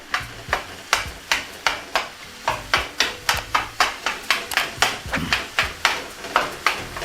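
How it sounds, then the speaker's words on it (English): Ground beef is broken up and browned in a skillet, with loud rhythmic spatula scrapes and taps about three per second over a constant close sizzle and no voices. "And now really break down the beef and let it cook until it's almost done."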